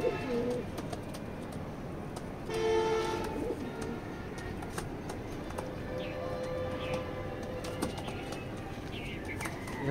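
A large blue pied racing pigeon coos in soft repeated phrases, fairly close, with other birds calling and faint scuffling and clip-clop-like taps around a loft.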